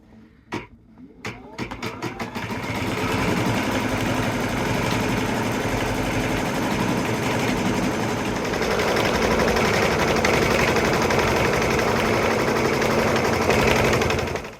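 Embroidery machine stitching a background quilting section in a small 5x7 hoop, a few starting clicks, then a fast, loud, continuous mechanical chatter of the needle running without pause.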